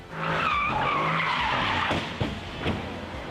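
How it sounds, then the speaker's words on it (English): A front-wheel-drive supercar skids and slides into a tree: loud, wavering tire squeal over engine noise, followed by a couple of sharp impact thuds as it trails off. "it sent the car sliding right into a tree"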